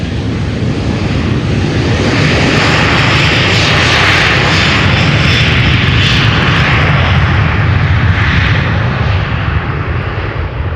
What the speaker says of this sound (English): This is a Boeing 737-800 to Bergen.